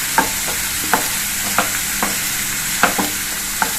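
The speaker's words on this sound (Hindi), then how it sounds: "लहसुन को हमें अच्छी तरह से भूनना है, इसका कच्चापन हमको इसमें चला जाना चाहिए।" Garlic fries in a pan for a drumstick (moringa) pod curry, a constant close sizzle punctuated by regular sharp clicks of a spoon stirring against the pan, with no voices.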